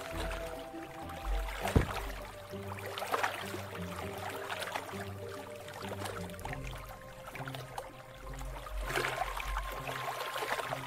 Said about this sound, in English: The softly moving water is beautiful to the eye and serves to add to the picturesque landscape.